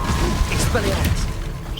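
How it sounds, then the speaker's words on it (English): In Hogwarts Legacy, an Expelliarmus spell bursts out as a short magical whoosh with crackling, clattering effects over a dense bed of game noise, lasting under two seconds. "Expelliarmus!"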